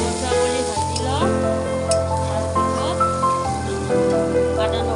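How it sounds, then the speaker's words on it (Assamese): Onions frying in oil until browned with a few dried red chillies in the pan, for a soybean paneer curry, give a steady close sizzle that runs the whole time under a melodic music bed. "পিঁয়াজখিনি ৰঙচুৱা কৰি ভাজি লওঁ"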